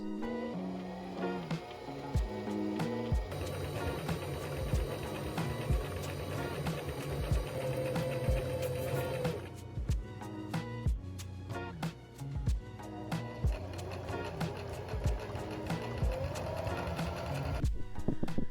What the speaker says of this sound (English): So I'm just going to get my bobbin ready on the sewing machine and just sew all the way around.